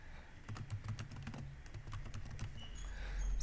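Rapid keystrokes tap on a computer keyboard while code is being written, a quick run of close, light clicks that thins out toward the end over a faint background rumble.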